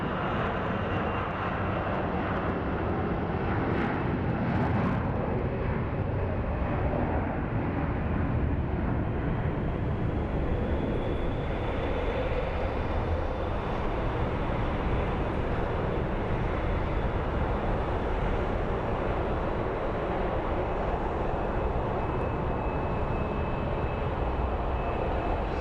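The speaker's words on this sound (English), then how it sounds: "this Delta Airlines is headed to Detroit. It's an" Delta Airlines Airbus A321 jet airliner at Phoenix Sky Harbor, a loud, steady engine roar holding throughout with a faint rising whine, no voices.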